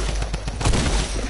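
Gunfire in a video game aimed at shooting something down: a fast, dense volley of shots with punchy thuds, close and fairly loud over a brief stretch, without talk.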